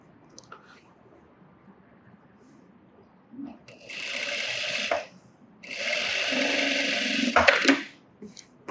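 A sewing machine stitches a blouse in two runs of steady whirring, the first shorter and the second longer, with quiet handling sounds and faint speech in between.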